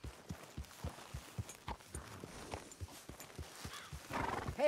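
A horse in the video game Red Dead Redemption 2 walks with a steady, rhythmic clip-clop of hooves, medium-close over a soft outdoor bed, swelling slightly near the end with a possible snort or whinny.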